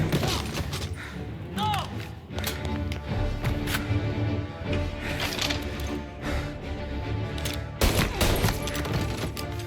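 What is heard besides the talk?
gunfire in the video game Mafia: Definitive Edition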